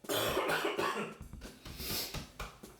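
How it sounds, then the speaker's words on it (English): Several harsh coughs in a row, close and loud, with a bit of throat clearing and breathing between bursts. "You might have to excuse my sniffles at the camera and coughing and spluttering."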